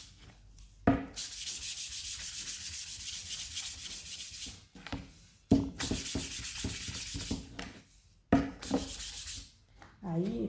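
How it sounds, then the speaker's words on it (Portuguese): A decorated wooden maternity door is hand-sanded in long, steady rubbing bursts of about four seconds each, three passes separated by short pauses, close and fairly loud. "Aí tem que lixar tudo"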